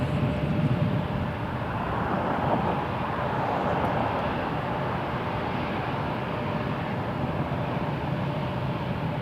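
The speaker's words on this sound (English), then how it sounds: "Republic 3636 headed to Washington, Dallas on an Embraer 175 for United Express." Republic Embraer 175 airliner operating as United Express at Toronto Pearson Airport, a broad steady jet engine roar at moderate distance, continuous throughout with no talking.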